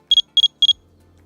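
A Rippton Bitekeeper+ fishing bite alarm signals a drop-back with three quick, bright double beeps, loud and close, evenly spaced and heard alone.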